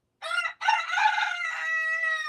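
A rooster crows nearby, loud and clear: a short opening note, a brief break, then a long drawn-out call held to the end.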